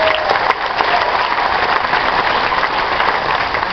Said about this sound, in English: Please continue to applause, if you will, for our host with the most, our cruise director, Mr. Drew Devine